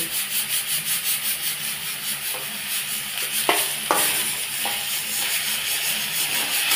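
Ginger-garlic paste and split green chillies sauté in a pan for ghugni, a close, steady sizzle under rhythmic rubbing strokes of the spatula, with a few sharper scrapes midway and no talking.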